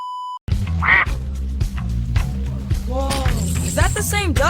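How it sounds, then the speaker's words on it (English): Cartoonish duck quacks ring out loudly over busy music and sound effects, several nasal calls in quick succession near the end, with a voice speaking along. "Is that the same duck?"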